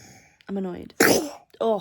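A single sharp sneeze bursts out between stretches of close talking.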